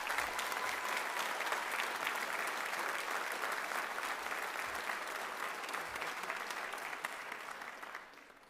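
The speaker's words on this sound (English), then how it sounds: "Please give them another round of applause." Audience applause at a high school senior honors night, a dense, even wash of many hands clapping that holds steady and then tapers off toward the end, with no talk over it.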